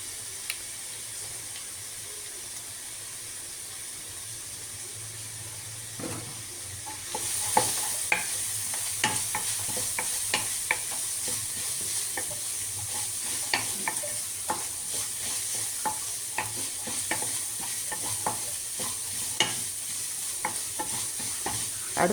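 Asafoetida powder sizzling in a frying pan in a home kitchen: a quiet, low hiss for several seconds, then a louder, steady crackling sizzle broken by repeated scraping strokes of a stirring spoon, close up, no voices.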